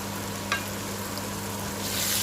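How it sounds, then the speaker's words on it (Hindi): Okra frying in a pan while being stirred, a steady soft sizzle throughout with one brief scrape of the stirring utensil, fairly quiet and with no talk. "हमारी भिंडी बहुत अच्छे तरीके से भून रही है।"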